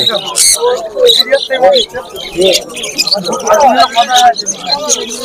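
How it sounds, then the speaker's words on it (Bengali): Lovebirds chirp and squawk at a busy pet bird market, with bright overlapping calls close by and people talking throughout. "আচ্ছা এখানে প্রচুর পরিমাণে লাভবার্ড রয়েছে দেখতে পাচ্ছেন"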